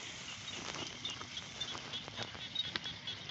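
Steady patter of rain falling over rice paddy fields, a constant hiss with light scattered drips and taps, fairly close, with no talking.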